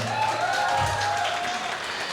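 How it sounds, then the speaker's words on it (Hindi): The audience at the Pathaan film success press meet applauds, a steady, moderately loud clapping crowd with a sustained tonal sound running through it. "इसलिए जोरदार ताली होनी चाहिए"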